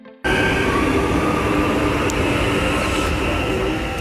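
A train at a home railway station gives a steady, loud rumble that starts suddenly and fills the whole stretch, with a broad noisy roar and faint high squeals on top.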